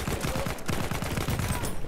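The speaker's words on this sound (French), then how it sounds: "le tir au jet de la MP18 trench est vraiment incroyable" Rapid automatic fire from an MP18 Trench submachine gun, shot from the hip in Battlefield 1, rattles in a steady close burst that fills the whole moment.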